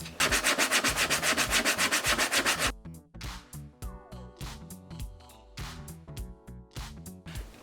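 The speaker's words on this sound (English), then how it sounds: "You can also use sandpaper to even out surfaces and seams that didn't quite line up all the way." Sandpaper rubbed by hand over EVA foam seams, a rapid run of rhythmic scratchy strokes at first, then slower, intermittent rubs with faint knocks, close and moderately loud.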